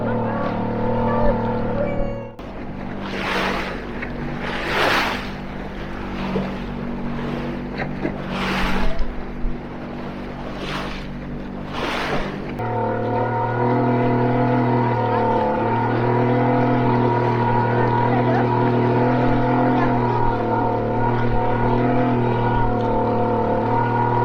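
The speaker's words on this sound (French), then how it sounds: "son moteur il va pas tenir la traversée" A small motorboat engine hums through a lake crossing in the Bolivian highlands, and the motor is struggling to last. Splashing bursts come first, then a loud, steady, droning engine tone carries on without interruption.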